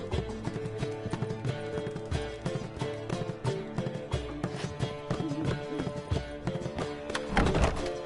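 Horse hooves clip-clop in a steady rhythm as Geralt rides in The Witcher video game, close and clear over a busy game soundscape with a brief whinny and thuds near the end.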